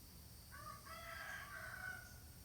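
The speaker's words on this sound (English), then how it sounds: "Cockerels." A cockerel crows once in a drawn-out, somewhat strained call lasting about two seconds, heard at a moderate distance over a steady hum of background ambience.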